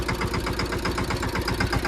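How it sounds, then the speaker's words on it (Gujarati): A tractor engine idles close by, chugging in a steady, rapid rhythm. "સારું ટ્રેક્ટર છે ભાઈ આપણે ટ્રેક્ટર લઈને અમે ભાગ્યા છે ગામમાં"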